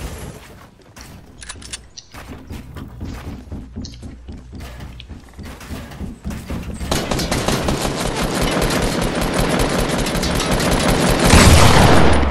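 Rapid video-game gunfire, shotgun blasts mixed with sustained automatic fire, starts as scattered loud shots then builds into a dense, continuous barrage that grows louder toward the end.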